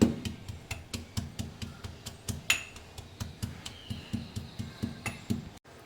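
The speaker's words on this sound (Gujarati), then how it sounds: "હવે આપણે એને ખાંડી લઈશું." Garlic, cumin, red chilli and salt are pounded into a paste with a pestle, giving steady, evenly spaced thuds, about three a second, close and fairly quiet, with no talking.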